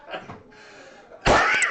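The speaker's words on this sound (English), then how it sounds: "Your coughs are so loud." A loud, sharp cough bursts out near the end after quieter murmuring, close and harsh.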